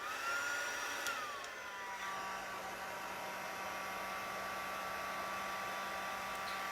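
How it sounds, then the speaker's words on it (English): A heat tool set on low blows hot air over puff paint on Christmas tags, a steady close whirring hiss with a constant hum, holding level after a brief pitch shift near the start. "And then we get the heat tool in. And you want to do it on the low."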